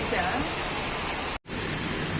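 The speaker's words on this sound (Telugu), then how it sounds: "చాలా పెద్ద వాన అయితే పడుతుంది." A heavy downpour in Nellore makes a dense, steady hiss, broken by one brief dropout before it resumes at the same level.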